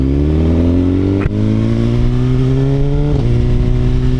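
A 2018 Suzuki GSX-R1000 with an M4 exhaust holds a loud, steady high rev that dips sharply for an instant and then climbs again, with a short blip near the end, close and alone with no talk.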